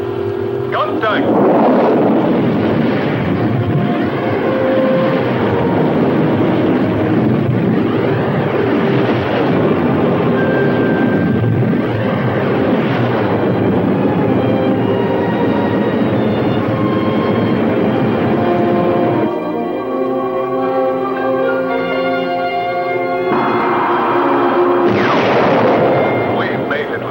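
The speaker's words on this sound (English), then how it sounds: "Engines at maximum speed." Spaceship engines roar at maximum speed in a 1960 science-fiction film, a loud, continuous rumbling drone with a wavering hum that shifts tone partway through.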